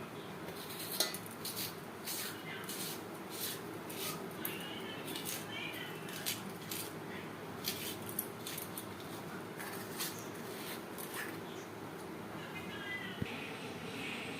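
Knife or spoon hollowing out boiled potatoes in a bowl to stuff them for aloo dum, giving repeated close clinks and scrapes against the bowl over a steady low kitchen hum.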